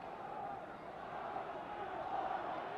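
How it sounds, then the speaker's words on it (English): A boxing arena crowd at the Floyd Patterson versus Oscar Bonavena fight gives a steady, distant roar of cheering, an even wash of noise with no pauses. "And the crowd is starting to urge Patterson on."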